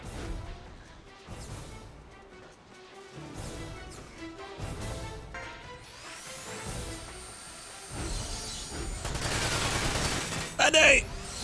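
Repeated gunfire in Front Mission 5 comes in a run of bursts and single shots, mixed with crashing impacts, loud and steady under in-game effects with a voice talking through part of it.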